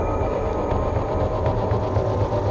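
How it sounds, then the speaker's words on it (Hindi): A train rolling out of a tunnel, a steady loud rumble of wheels and carriages with continuous broadband roar and faint tonal hum, no voices. "ट्रेन टनल से बाहर निकली"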